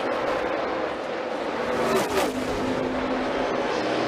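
NASCAR stock cars racing at Indianapolis Motor Speedway in 2016, a loud, steady roar of engines at speed with a car sweeping past near the middle and a sustained engine drone that continues to the end.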